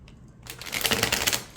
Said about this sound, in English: riffle shuffling this deck is pretty good